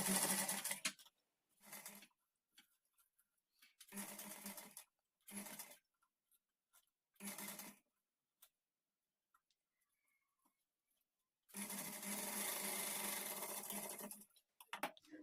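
A sewing machine stitches organza fabric frills for a blouse back neck in short, steady bursts: about five brief runs separated by pauses, then one longer continuous run near the end, close and clear.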